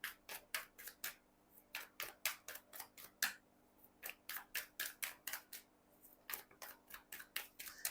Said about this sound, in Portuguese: Vou embaralhar bastante